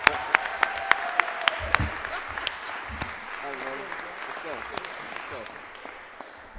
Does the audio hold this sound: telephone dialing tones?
no